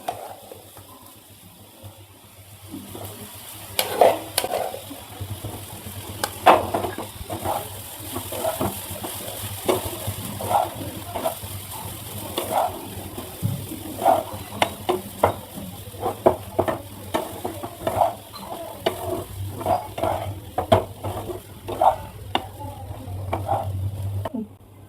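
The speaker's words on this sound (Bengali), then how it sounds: "এর মধ্যে আমি রাইসটা দিয়ে দেবো।" Boiled, fully dried rice for jeera rice is stir-fried in a pan. A spatula scrapes and taps in a steady rhythm for about twenty-five seconds over a low simmering hiss.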